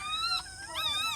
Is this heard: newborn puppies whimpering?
yes